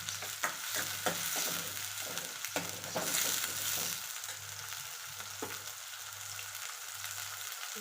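Tomato cooking in a hot pan for pav bhaji, a continuous close sizzle and fry with occasional scraping stir strokes over a steady low hum.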